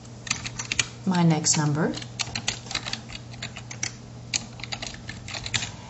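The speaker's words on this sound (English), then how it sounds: "I can double click in the next box and type in" Keystrokes clatter on a computer keyboard as entries go into a classroom response software form, quick close clicks in short bursts under a voice that speaks briefly in the middle.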